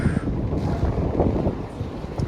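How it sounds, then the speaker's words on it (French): Cold wind blowing across a boat on open water, a steady close roar and microphone buffeting that rises and falls slightly, with no voices. "J'espère que vous m'entendez bien avec ce vent"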